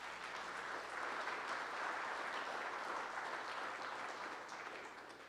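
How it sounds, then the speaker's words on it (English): Sustained applause from an audience at a fire department media day event, a dense steady wash of clapping that swells slightly and then tapers off toward the end. "Please give them an applause."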